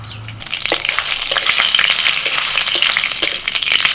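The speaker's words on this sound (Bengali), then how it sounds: "কড়াইতে সর্ষের তেল দিয়েছি ফোড়নে দিচ্ছি শুকনো লঙ্কা আর কালো সর্ষে" Dry red chillies and black mustard seeds spit and splutter in hot mustard oil in a kadai, a dense, loud crackling sizzle with sharp pops that starts abruptly and continues steadily, with no talk.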